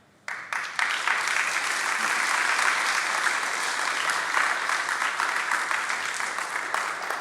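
Sustained applause from an audience, steady and dense clapping lasting several seconds with no talking.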